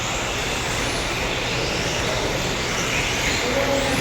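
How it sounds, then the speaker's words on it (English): A Tamiya TT01 radio-controlled touring car driving on a track gives a constant, loud whirring electric motor whine, with steady broadband noise and no pauses. "The TT01, of course, my daughter's driving it."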